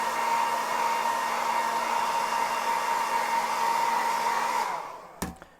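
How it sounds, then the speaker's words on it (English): Small, weak hair dryer heating the plastic arms of a Mythic Legions action figure, a steady airy whir with a faint motor whine that winds down and stops, followed by a couple of sharp handling clicks. "this is a weak little hair dryer"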